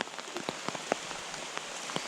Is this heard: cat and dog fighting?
no